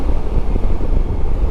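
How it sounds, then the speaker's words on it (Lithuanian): Strong wind buffets a microphone during a motorcycle ride on the Atlantic Ocean Road in Norway, a loud, gusty low rumble pulsing throughout with no voices. "Dabar vėjo davė stipraus."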